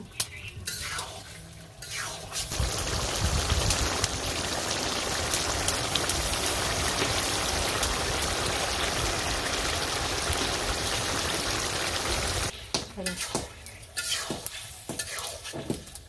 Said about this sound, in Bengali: একটু জিরে গুঁড়ো দিয়ে দিলাম, আগে ভেজে রাখছি